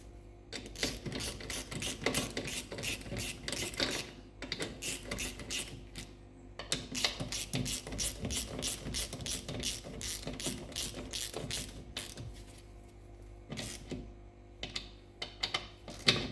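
A hand ratchet clicks steadily while bolts on a Karmann Ghia are tightened, the rapid pawl ticks coming in bursts with short pauses, close and fairly quiet.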